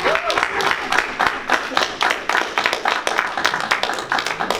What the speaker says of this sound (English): let's give a big round of applause to my sugar dumpling as she comes